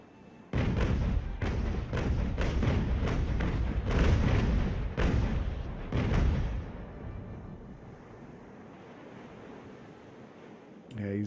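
A wooden warship fires a rolling broadside of cannons in Ultimate Admiral Age of Sail, about eight heavy booms in uneven succession over ambient sea noise, with a rumbling tail dying away afterward.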